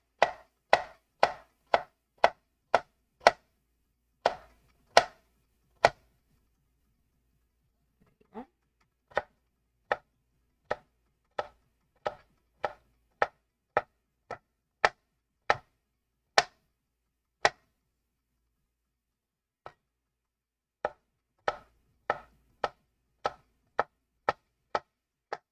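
Knife chopping carrots on a cutting board, crisp sharp taps in quick bursts of steady rhythm separated by short pauses, close and clear.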